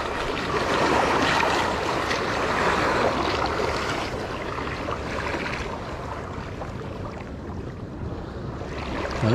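Strong sea waves surge and wash continuously, loud and close, with a rushing roar that swells and eases slightly before a final splash.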